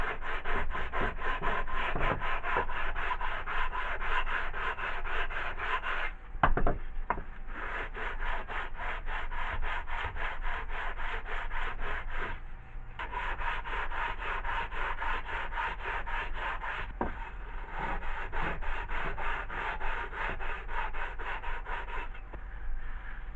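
Cylinder block base surface of a compressor being cleaned by hand rubbing, a steady rhythmic scrubbing and rasping at close range, broken by two brief pauses, loud and continuous.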